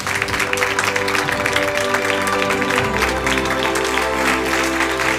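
A studio audience applauds to welcome a guest onto a television talk show set, steady close clapping filling the whole stretch with a sustained musical tone running beneath it.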